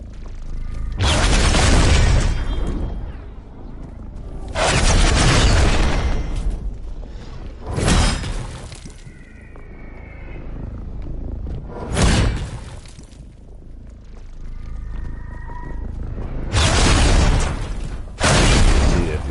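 Repeated crashing, shattering destruction as the Infinity Sword in Fortnite smashes through buildings, several loud broadband bursts spaced a few seconds apart with debris and whooshing between them, no talk.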